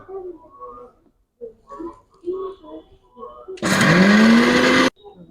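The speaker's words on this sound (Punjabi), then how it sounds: "ਦੂਜਾ ਡਰਾਈ ਫਰੂਟ ਬੋਂਦਾ ਤੇ ਮਖਾਣੇ ਪਾ ਕੇ ਇਹਦੇ ਵਿੱਚ ਆਪਾਂ ਗ੍ਰੈਂਡ ਕਰਾਂਗੇ" A blender grinds dry fruits and makhana for winter panjiri in one loud, whirring burst of just over a second, starting right after a person talks in short phrases and cutting off sharply.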